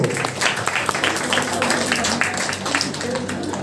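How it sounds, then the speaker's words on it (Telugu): A church congregation at a Christmas Eve service claps in a steady rhythm, moderately loud, with voices mixed into the clapping throughout. "చప్పట్లో."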